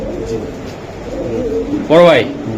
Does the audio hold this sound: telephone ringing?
no